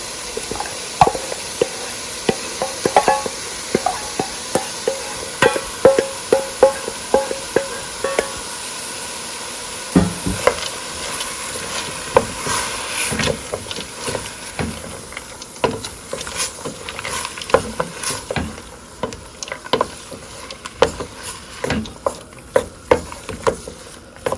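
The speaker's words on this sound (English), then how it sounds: "Next, I'm going in with my mixed vegetables." Mixed vegetables stir-fry in a hot pan for chicken and shrimp chow mein, with a steady loud sizzle broken by scraping and clattering strokes as the food is tossed.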